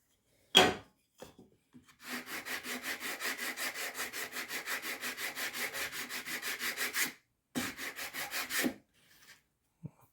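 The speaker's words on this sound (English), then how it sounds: "I'm still gonna use a sander here. I'm gonna sand this." Wood is sanded with a sander while making a jig for a table saw, with rhythmic back-and-forth strokes close by in a steady run, a short pause, then a few more strokes with no talking.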